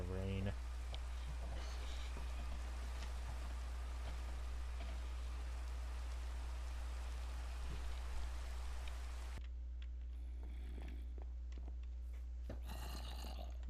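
Steady rain falls in the Minecraft video game, a soft even hiss that runs continuously and then thins and changes partway through, with no voices over it.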